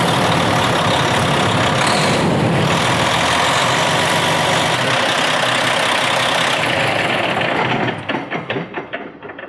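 A vehicle engine runs steadily after its fuel system has been primed, a loud continuous idle rumble that tapers off near the end as the engine is shut down.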